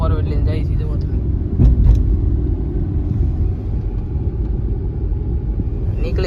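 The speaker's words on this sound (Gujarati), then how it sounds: "4 વ્હીલ લઈને જઈએ છીએ." Car ride to a mass wedding and temple visit: a steady low road rumble and engine drone from inside the moving four-wheeler fills the whole stretch, with brief bumps and a voice speaking over it.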